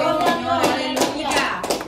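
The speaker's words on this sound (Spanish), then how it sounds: "¿Cuántos le damos aplauso a Cristo?" A church congregation claps along in uneven bursts during a Spanish-language sermon, several loud hand claps standing out over a murmuring, voice-like background.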